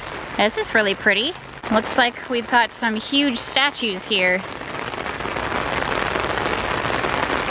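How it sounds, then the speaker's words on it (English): Rain patters steadily on umbrellas in an outdoor sculpture park in New Jersey, a dense, close hiss that runs beneath a man's speech and then carries on alone. "Always like the sound of raindrops on umbrellas."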